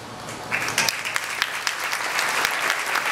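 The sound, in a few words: audience applause at an award ceremony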